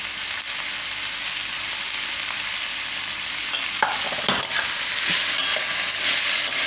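Cabbage and flour sambharo sizzles steadily in a frying pan as a spoon stirs it, giving close, continuous frying crackle with a few louder scraping stirs near the end.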